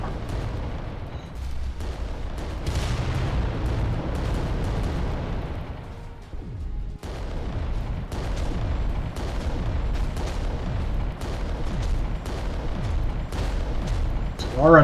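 Titan volcano cannons fire in the Adeptus Titanicus: Dominus game. Heavy booming blasts and rumbling explosions roll on continuously, loud and close, with a short lull midway before they resume.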